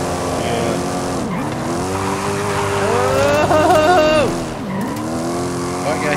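A twin-turbo Crown Victoria drifting in Forza Horizon 5, its engine note swooping up and down as the tires squeal loudly and steadily through a long slide, close and dominant.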